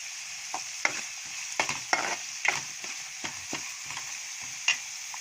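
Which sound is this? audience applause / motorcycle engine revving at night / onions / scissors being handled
onions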